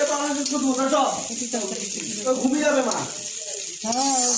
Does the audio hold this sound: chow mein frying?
yes